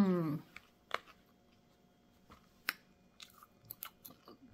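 Fresh homemade popcorn is chewed in a quiet room. Soft crunches come in scattered bursts at close range after a brief murmur at the start.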